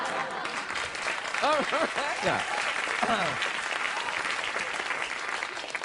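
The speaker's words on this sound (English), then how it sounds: "Oh, they're real applause shut-uppers, aren't they?" A late-night talk-show studio audience claps in a dense burst of applause while a voice talks over it, then the clapping trails off under continued speech.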